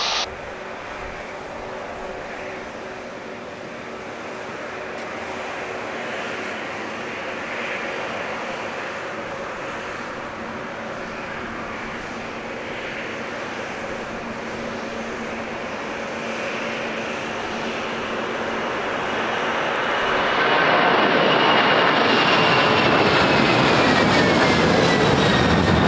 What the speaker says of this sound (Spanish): Aerounión 500 pesado, pista 20, autorizado para despegar